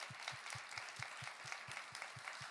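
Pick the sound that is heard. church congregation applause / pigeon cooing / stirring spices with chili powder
church congregation applause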